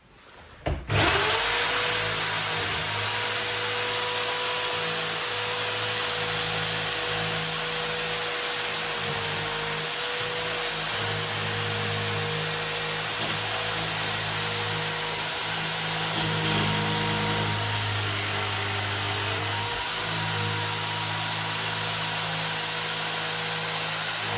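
A router with a 25mm cutter, guided by a jig, cuts a lock faceplate recess into a wooden door: a loud, sustained high-pitched motor whine with a grinding cutting tone that wavers slightly, close by and without speech.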